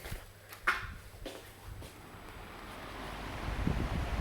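Steady whooshing hum of an electric fan pushing air, with a few faint clicks early on as a dial switch is set, the rushing noise growing slightly louder toward the end.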